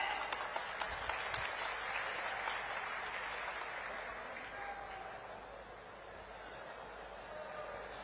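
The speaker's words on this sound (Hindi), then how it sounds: "जोरदार तालियां हो जाएं।" Audience at a passenger terminal inauguration attended by India's home minister giving warm applause, loud at first and gradually thinning and fading over several seconds.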